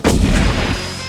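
A cartoon cannon fires a secret message shell, a single loud booming blast with a sharp onset that rumbles and decays through the rest of the second, with no talk over it.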